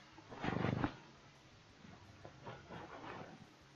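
A cat rubbing and pawing at a microphone gives muffled, rumbling thumps in a short burst near the start, followed by softer scuffs and brushing. The sound is close to the mic but quiet overall.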